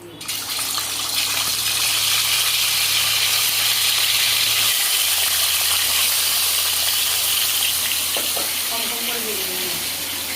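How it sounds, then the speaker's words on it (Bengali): A large rohu fish fries in hot oil, giving off a loud, steady, close sizzling hiss that starts abruptly and continues without a break. "তেলটা প্রায় গরম হয়ে এসেছে মাছটা আমি ভেজে নেবো"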